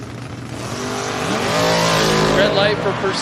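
A Willys and a shoebox Chevy Bel Air launch at a drag strip start, the engine roar rising loudly and continuously with a tire squeal, under a track announcer's voice.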